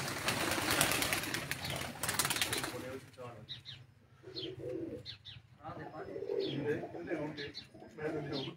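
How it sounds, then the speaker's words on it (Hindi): Flying pigeons kept by a pigeon fancier in Kandian, with wing flapping and soft cooing that run through most of the clip, heard under and between people talking. "ये आमिर के परवाजी कबूतर"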